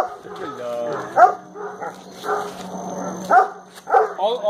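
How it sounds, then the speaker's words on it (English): A pet dog named Black Pearl gives short, intermittent yips and whimpery barks at close range during a Fourth of July gathering, with people talking over and between the sounds. "All the barking is about"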